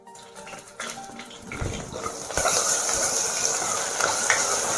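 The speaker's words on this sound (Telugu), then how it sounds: "అల్లం వెల్లుల్లిపాయ పేస్ట్ చేసిన తర్వాత ఆ పచ్చి వాసన పోయేదాకా మాత్రం ఫ్రై చేసుకుంటే చాలు." Ginger garlic paste and green chillies are added to onions in a hot pan for a Konaseema mutton and raw mango curry, and a loud, steady sizzle builds up and keeps going with a few stirring scrapes.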